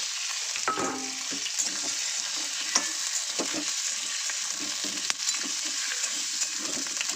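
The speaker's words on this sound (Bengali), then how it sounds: "হালকা করে একটু তেলে ফ্রাই করে নেব।" Chicken pieces and vegetables fry lightly in oil for a chicken stew, with a continuous close crackling sizzle and scattered sharp pops over the whole stretch, without voices.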